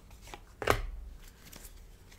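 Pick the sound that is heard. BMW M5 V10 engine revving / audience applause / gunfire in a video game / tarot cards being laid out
tarot cards being laid out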